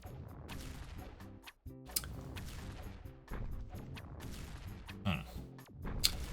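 Rapid crackling bursts and sharp pops from firework spell effects in the game Magicraft, a dense busy stream of bangs with a few brighter cracks standing out, under faint talk.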